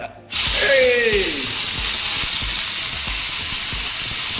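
Curry leaves drop into hot oil and burst into a loud, steady sizzle that starts abruptly and keeps crackling without a break.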